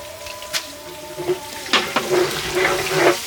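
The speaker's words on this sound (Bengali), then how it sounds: "চাউল দিয়ে দিলাম সুন্দর করে ভাজিয়ে নেবো" Rice with chopped onion, cinnamon and bay leaves frying in a pot for village-style beef tehari, a steady sizzle broken by a few sharp scraping stirs and clatters, close and fairly loud with no talk.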